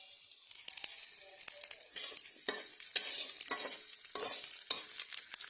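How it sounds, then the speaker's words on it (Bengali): Chopped onion and garlic sizzle and crackle in a pan, with repeated scraping stirs breaking through the steady frying hiss. "পেঁয়াজ, রসুন এগুলো আমরা কুচি কুচি করে কেটে নিয়ে প্যানে দিয়ে ভেজে নেব।"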